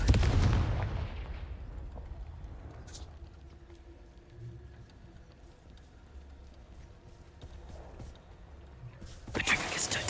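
Confringo fire spells blast in Hogwarts Legacy: one sharp burst opens the clip and another lands near the end, with quiet game ambience and faint rustling between them.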